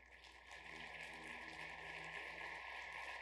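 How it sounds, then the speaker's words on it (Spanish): A church congregation applauds the Lord during a sermon, a faint, steady wash of clapping heard from a distance, with a persistent tonal hum underneath. "¿Cuánto le dan un aplauso al Señor?"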